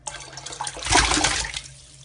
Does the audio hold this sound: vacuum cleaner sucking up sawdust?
no